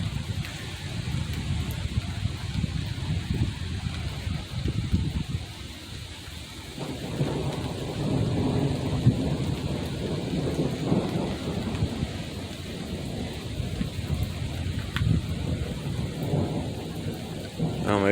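A microburst storm after a run of 100-degree days brings heavy rain and gusting wind in a steady roar, with rumbles of thunder rolling through and no voices.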